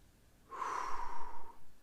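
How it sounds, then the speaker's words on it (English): A single deep breath taken in slowly and held briefly, a close, breathy rush of air lasting about a second with no talk around it. "Now take a deep breath."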